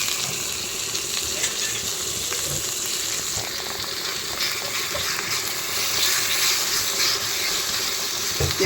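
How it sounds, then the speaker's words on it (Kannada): Chopped tomatoes go into a hot frying pan for chicken sukka, giving a steady, close sizzle and hiss of frying that holds level throughout, with faint scraping and stirring and no voices. "ಹೆಚ್ಚಿ ಟಮಾಟಿ ಹಾಕೋದು ನೋಡಿ."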